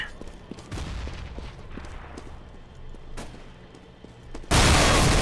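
In Counter-Strike: Global Offensive, a string of sharp gunshots cracks out over a few seconds, followed by a sudden loud grenade blast that fills the end of the clip.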